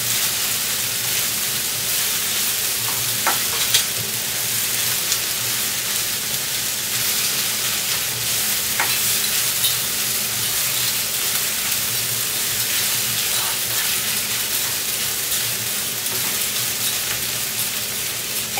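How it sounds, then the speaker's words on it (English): Green chilies frying in a pan for mushroom mutter masala give a steady, dense sizzle throughout, close and even, with a few faint clicks and no talking. "Add the chilies for 1 minute."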